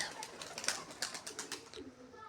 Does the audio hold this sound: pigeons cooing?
yes